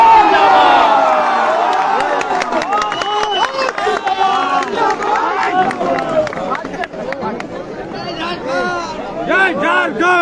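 A large rally crowd claps and cheers in a dense wash of applause and whoops, loud and close, while an amplified voice talks over it throughout.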